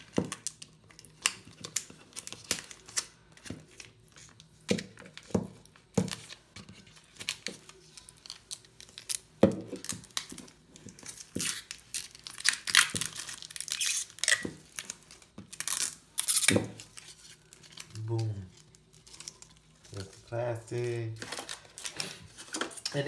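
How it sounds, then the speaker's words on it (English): Plastic wrap is pulled off Amazon Echo Dot packaging in a series of close crinkles, crackles and sharp tearing bursts with gaps between them, while a person talks in between. "Then I'm gonna pull this plastic"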